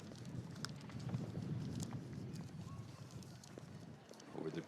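Show-jumping horse Opaline Z cantering on a grand prix course, soft hoofbeats blended into a continuous outdoor crowd murmur and distant commentary.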